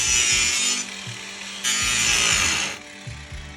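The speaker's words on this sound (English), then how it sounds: "We're cutting off the edges of the screws so that they're flat with the wood." A power tool grinds off protruding screw ends flush with a wooden surface, giving two loud sustained high-pitched cutting passes with a short dip between them and lower motor hum underneath.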